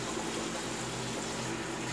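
Water splashing and running at a sink to wet the face before shaving, a steady, fairly loud wash of running water without pause.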